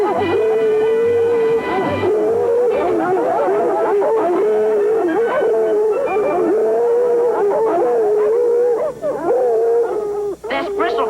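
A hound named Bristle Face bays with long, wavering howls through a fox chase, sounding fairly close and continuous, with voices speaking over and between the cries.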